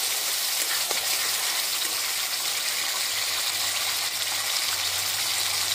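Tomato sauce goes into a hot pan of frying garlic, ginger and green chilli for a restaurant-style dry chilli chicken, giving a steady, loud, close hiss and sizzle that runs unbroken throughout.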